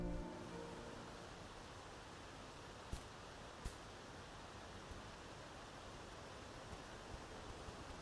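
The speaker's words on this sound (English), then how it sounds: "I just want to go lie in the grass here and relax while listening to the rushing water" Steady broadband rush of flowing water in the video game Celeste, a constant soft wash at low level with a couple of faint clicks, no voices.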